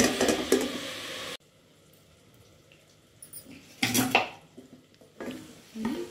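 Amaranth leaf fry being stirred in a pan, with short bursts of metal utensil scraping and clattering against the cookware separated by quieter pauses, close and moderately loud.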